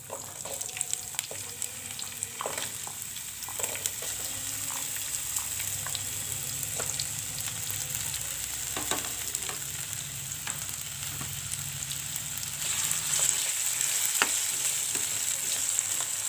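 Potatoes lightly frying in a pan for a cabbage and potato-pea sabzi give a steady, close sizzle that runs throughout, with occasional faint scrapes and ticks and no voices.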